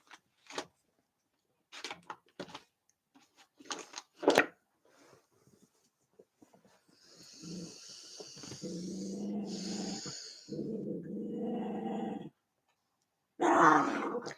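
Dogs growl and snort indoors in low, rumbling bursts, with scattered sniffs and short noises first and then longer sustained growls up close.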